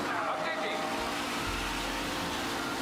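A car accelerating hard at the start of a lap race in Mafia: Definitive Edition, a steady loud engine roar that deepens and swells midway, with speech over it.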